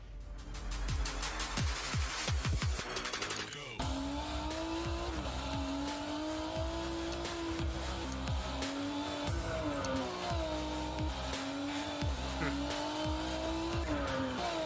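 Futuristic car engine revving with tire squeal and skidding from a game trailer shown at gamescom Opening Night Live 2020, loud and steady throughout, layered over music-like tones with a sharp burst of impacts early on.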